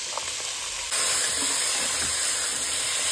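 Peas and mixed vegetables frying in a pan for vegetable khichdi give a steady, loud hiss and sizzle, which swells sharply about a second in and then holds, with faint stirring underneath.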